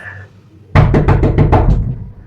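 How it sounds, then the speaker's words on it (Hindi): Someone knocks hard and fast on a door, a loud burst of about seven rapid heavy thumps that begins abruptly, then a brief trailing rumble, with no talk over it. "दरवाज़ा कोई खटखटा रहा है इतनी तेजी के साथ"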